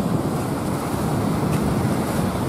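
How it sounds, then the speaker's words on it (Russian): Gentle waves wash steadily on a calm, almost windless sea along the coast, a soft continuous surf with some wind rumble, heard alone without voices. "На море почти что штиль. Тихие волны."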